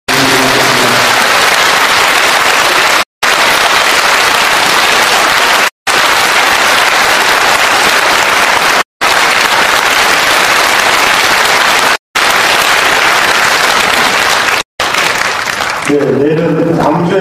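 Loud, sustained applause from a large audience thanking a Buddhist monk after a dharma talk, broken by several brief cuts, then fading as a voice begins speaking near the end.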